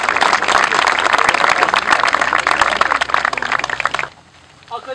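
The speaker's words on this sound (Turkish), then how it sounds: "Alkışlayın ya." An audience at a sports field opening applauds in a dense, loud burst of clapping that continues steadily for about four seconds, then cuts off abruptly, followed by a brief voice.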